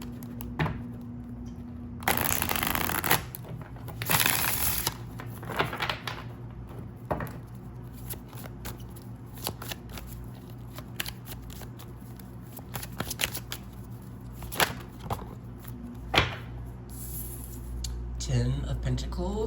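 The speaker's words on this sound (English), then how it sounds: "I'm gonna give it a good shuffle really fast." Tarot cards are shuffled quickly by hand, giving crisp riffling bursts and scattered flicks and taps at close range.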